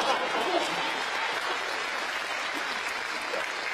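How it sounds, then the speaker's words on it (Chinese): Audience at a live crosstalk comedy show applauds steadily, a close, even wash of clapping from the crowd lasting several seconds. "既然您都这么鼓掌了"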